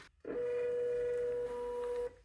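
A portable inkless thermal printer draws in a sheet of paper, giving a steady close electronic whine that runs for about two seconds before stopping, with no talking.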